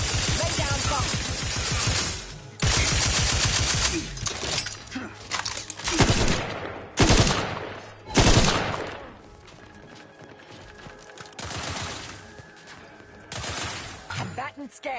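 Heavy bursts of gunfire in the video game The Outer Worlds 2 arrive in loud separate volleys with quieter gaps between, while a voice talks over parts of the fighting.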